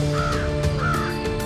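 A crow caws twice in a row as a sound effect in a told folk tale, clear and fairly near over a steady background music bed.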